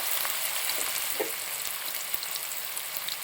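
Four medium onions, finely chopped, frying in hot mustard oil for an Assamese-style pork curry, a dense, even close-up sizzle with faint stirring clicks throughout.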